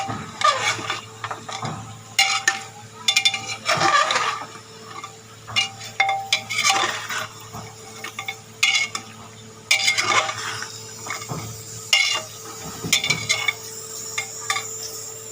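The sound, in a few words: frying and stirring spice paste (masala)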